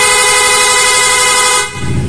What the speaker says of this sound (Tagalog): Ayan, tapos PIA horn.